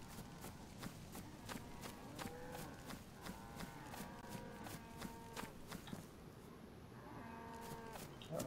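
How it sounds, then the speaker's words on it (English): Cattle moo in the video game DayZ in low, drawn-out calls over a steady run of rhythmic footsteps, with repeated moos layered throughout. "We got cows in front of us."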